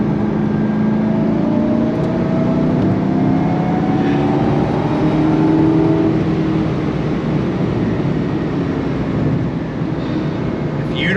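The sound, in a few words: 2005 Ford GT manual supercar engine accelerating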